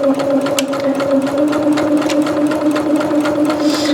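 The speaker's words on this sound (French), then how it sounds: "on coud tout le long, hein, au bord, pour plaquer et pour maintenir notre ceinture" A sewing machine stitches along a skirt waistband in a fast, steady mechanical whir with a rapid ticking needle rhythm, close and even throughout with no voices over it.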